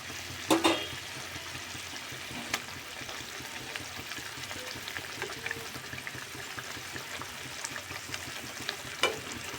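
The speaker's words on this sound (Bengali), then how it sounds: "মশলা কষানোর পরে আমি একটু জল দিয়েছিলাম, এটা ফুটে এসছে" Spice masala and water boiling in a pan for a Bengali coriander fish curry with katla, a soft, continuous bubbling simmer with scattered pops and a few louder clinks or stirring scrapes near the start and end.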